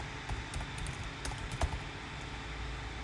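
Computer keyboard typing, a quick run of soft close key clicks with one heavier tap, alone over faint background hiss.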